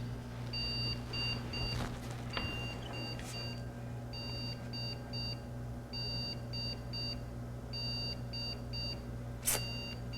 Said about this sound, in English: Ooh, I'm getting beeps.